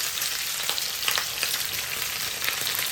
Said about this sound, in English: Now we're just shallow frying it, to brown it, or sear it